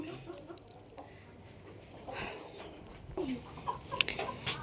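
Domestic hens and ducks at a small backyard farm make soft scattered clucks and a few brief sharp calls, quiet at first and growing busier toward the end, set against low ambient noise.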